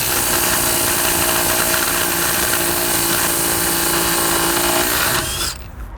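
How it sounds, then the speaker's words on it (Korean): An impact wrench is run up to tighten at a 700 torque setting, giving a loud, continuous mechanical whine and rattle held close for about five seconds. It then cuts off abruptly into near silence. "지금 700 토크를 한번 잠궈 본 다음에 한번 풀어 볼게요"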